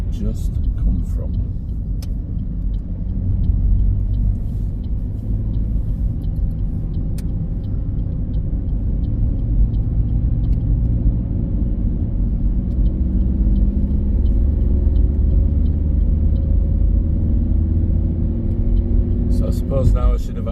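A car drives along the East Leeds Orbital Route, heard from the passenger seat as a steady low engine and road rumble with tyre noise, continuous and fairly loud throughout.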